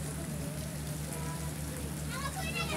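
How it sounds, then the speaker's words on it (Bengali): A light drizzle falls outdoors among quiet trees as a soft, steady patter and hiss, with a low hum underneath and a voice faintly present. "বৃষ্টি হইতেছে, টিপি টিপি বৃষ্টি, তেমন একটা বেশি না।"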